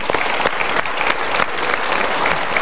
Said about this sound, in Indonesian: Kita berikan sekali lagi tepuk tangan